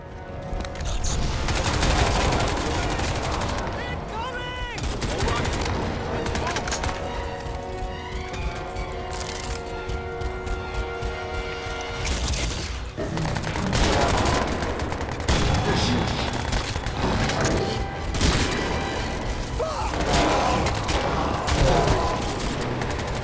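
Gunfire from a gunner and an aircraft overhead in Crysis 2 Remastered, dense sustained bursts of shots mixed with booms and game effects, loud and continuous throughout.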